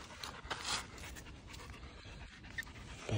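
A dog breathing hard after exertion outdoors on a sunny day in the forest, a steady close run of rapid panting breaths with no talk over it.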